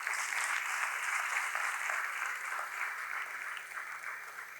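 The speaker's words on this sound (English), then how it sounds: "એકવાર જોરદાર તાળીઓ થઈ જાય તમારા માટે." Audience applause at a stock-exchange listing ceremony for Mother Nutri Food Ltd, a steady, dense wash of many hands clapping at a fairly distant, even level for the whole stretch, with no voices over it.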